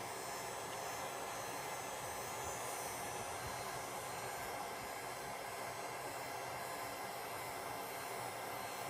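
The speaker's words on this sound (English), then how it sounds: "And keep your heat gun moving, because you don't want to scorch it unevenly." A heat gun blows steadily and loudly on wood burning gel spread on wood, a constant close whooshing roar with no pauses or voices.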